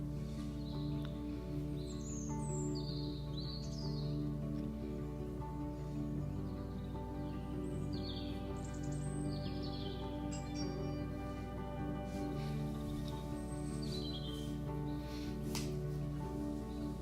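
Birds chirp and tweet in Life Is Strange, scattered high calls over a steady low ambient hum and drone.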